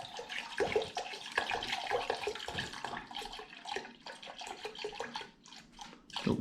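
Water pours into a Pyrex jug already holding 250 ml of water, a steady close splashing and gurgling stream that lasts several seconds and trickles unevenly toward the end.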